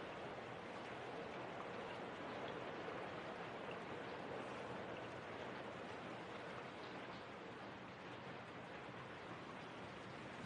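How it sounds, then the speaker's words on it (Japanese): Steady rain falls evenly and continuously as a dense, broadband hiss, with no pauses or voices. "雨止まないと帰れないね。"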